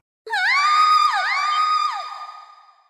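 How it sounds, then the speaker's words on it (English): A single high-pitched female scream from the video game Trails of Cold Steel, sustained and wavering, loud and alone, trailing off over about two and a half seconds. "Scream?"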